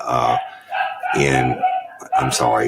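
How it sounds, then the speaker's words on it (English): Dogs barking upstairs near a cemetery, faint yips and barks mixed under a man's continuous nearby speech. "y'all can hear the dogs barking."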